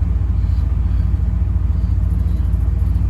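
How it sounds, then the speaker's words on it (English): A new golf cart drives along with a steady, low rumbling motor hum, continuous and fairly loud and close, with no talking heard. "he's out here in his pajamas riding around his new golf cart"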